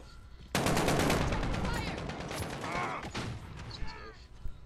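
Rapid automatic gunfire in the shooter game Call of Duty: Modern Warfare, a sustained burst of loud crackling shots starting abruptly, then tapering into scattered shots and mechanical clicks, with faint voice chat underneath.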